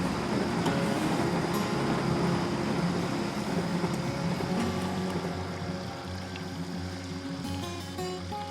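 A train rumbles past along the riverside at Arashiyama in Kyoto, a steady loud roar with rattling wheel noise that holds throughout, mixed with flowing water.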